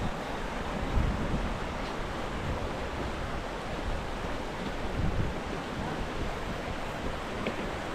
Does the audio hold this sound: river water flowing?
yes